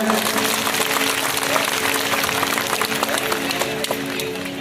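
A crowd at a live public event in Kopargaon claps loudly for their MLA, producing steady, dense applause that fills the whole stretch, with faint sustained tones running underneath.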